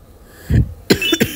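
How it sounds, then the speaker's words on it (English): Two or three sharp, close coughs from a person with a cold, a single cough followed by a quick pair, loud and dry with brief silence between. "I keep coughing."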